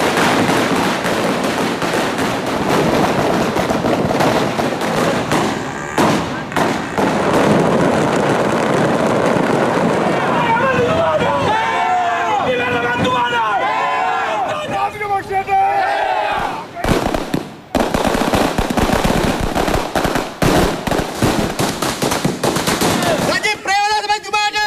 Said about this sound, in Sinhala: දිවයිනේ බොහෝ ප්‍රදේශවල රතිඤ්ඤා දල්වමින් සතුට පළ කළා